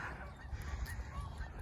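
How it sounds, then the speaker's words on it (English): Geese honk in a steady, noisy outdoor scene, their calls blending into rumbling background noise at moderate distance. "geese."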